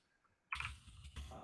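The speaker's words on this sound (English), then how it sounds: "If you just type in Patrick Collins" Typing on a computer keyboard, a quick run of close, light key clicks starting abruptly after a brief quiet moment and continuing steadily to the end.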